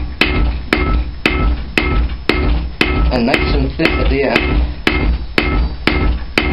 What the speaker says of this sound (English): with the rounding hammer, you can direct it if it's bulging one way or the other.